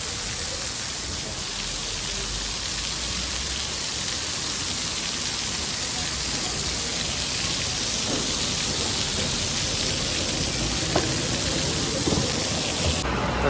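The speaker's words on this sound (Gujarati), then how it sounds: "અત્યારે થોડો વરસાદ ચાલુ છે ભાઈ." Steady rain pours outdoors in summer in Morbi, a dense, even hiss of drops on surfaces throughout, with faint low rumbles and no talking.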